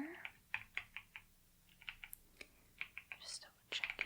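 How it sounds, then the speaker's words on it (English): Soft tapping on a computer keyboard in a quiet room, short irregular clusters of light keystrokes, close up, alongside faint whispered talking. "I just have a few last things to type into my computer"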